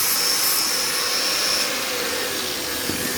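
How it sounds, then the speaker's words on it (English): Flap disc on an angle grinder smoothing down a weld on a classic Mini's mounting face, a loud continuous high whine and rushing grind held steady throughout, close by with no talk. "I'm just going to touch it with flat disc"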